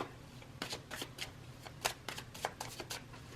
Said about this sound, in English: Let's shuffle and see what else we get here.